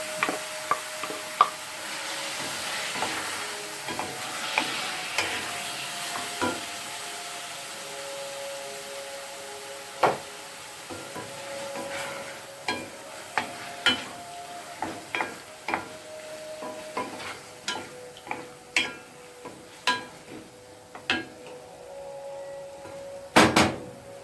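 Tofu stir-frying with vegetables in a pan, a low steady sizzle under many quick scrapes and taps of a utensil, sparse at first and then more frequent, ending in a louder clatter.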